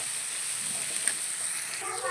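A curry frying in a pan with garlic, a steady, bright, close sizzle that stays even for about two seconds.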